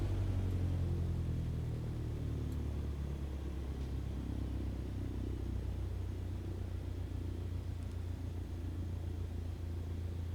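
A Cessna 152 engine idles in Microsoft Flight Simulator, a steady low droning rumble with constant hum that holds evenly throughout and has no talk.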